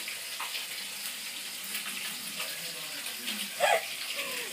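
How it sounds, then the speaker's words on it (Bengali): A whole bahu fish frying in hot oil, a steady soft sizzle and hiss with a brief louder spatter near the end, faint voices in the background. "পুৰা মাছ ভাজি আছে"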